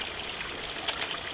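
A waterfall flows steadily with a continuous hissing rush of water, even and moderately loud throughout, with a couple of brief splashy spikes near the end.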